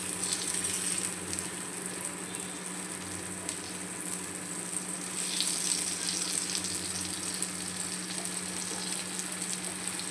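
Eggplant slices fry in shallow oil for a spicy Maharashtrian vangi masala fry, giving a continuous close crackling sizzle. Soft bursts mark pieces being turned one by one.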